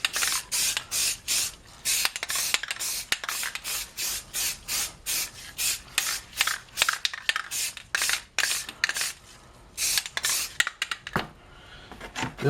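Light coats of flat black spray paint on a Mazda RX3 part: short aerosol hissing bursts in a broken rhythm, close and fairly loud, with brief pauses between passes.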